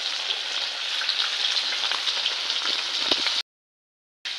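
Fish frying in a pan gives a loud, continuous close-up sizzle that cuts out abruptly into a brief silence before resuming.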